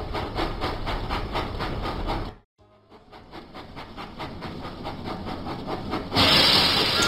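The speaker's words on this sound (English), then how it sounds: "Thomas puffed proudly into the steamworks." Thomas & Friends video game steam train chuffs in a fast rhythmic puffing pattern, briefly cutting out to silence before resuming with hiss, ending in a louder burst of steam.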